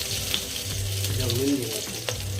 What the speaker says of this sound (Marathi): ते आपण वांगी टाकून घेऊ त्याच्यात.